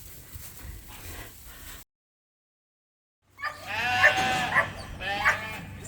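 Lambs bleating before being loaded onto a trailer on a sheep farm with Suffolk sheep; several near, loud bleats come after a short silent gap, over a background of farm noise and some talk.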